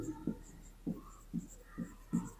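Handwriting strokes during a polynomial math lesson, a steady series of about five short scratchy bursts spaced roughly half a second apart, quiet and close, with no talking.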